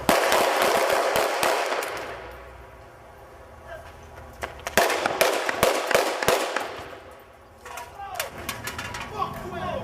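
Blank-firing prop weapons on a film set for a gang movie, loud rapid bursts of gunshots in two volleys with quieter gaps between, followed by fainter sharp cracks; people talk in the background.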